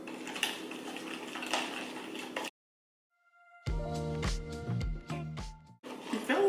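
Cinnamon roll cookie filling being mixed in a bowl, with close, rapid clinks and scrapes of a utensil against the dish in uneven bursts after a brief silence, preceded by a stretch of steady kitchen noise.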